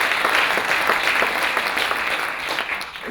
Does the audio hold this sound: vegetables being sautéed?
no